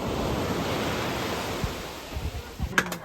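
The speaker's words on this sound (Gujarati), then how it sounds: "જોવે કેટલા ફાસ્ટ મોજા આવે." Sea waves surging onto the beach at Dwarka, a steady broadband wash of surf with wind, swelling and breaking close by, with a few brief thuds and bursts near the end.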